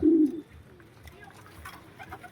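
A low pigeon coo sounds briefly at the start, followed by faint ambient noise and a few soft bird calls in the background.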